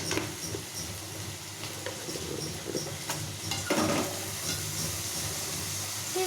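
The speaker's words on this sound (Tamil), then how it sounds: "நல்லா கிளறி விட்டுக்கோங்க." Salted food is stirred in a hot pan, giving a steady close sizzle and hiss with scraping strokes and small clatters throughout.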